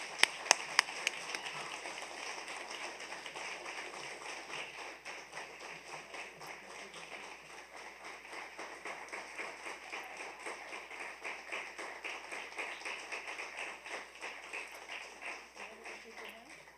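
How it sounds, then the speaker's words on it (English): An audience applauds an award recipient at a youth awards ceremony, a steady wash of many hands clapping at moderate distance, opening with a few sharper close claps. "Round of applause for Daniel."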